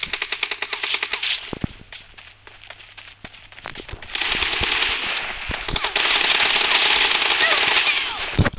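Gunfire in the video game PUBG during a one-on-one match: rapid bursts of automatic fire and sharp single shots, first in short clusters and then in long sustained volleys up close.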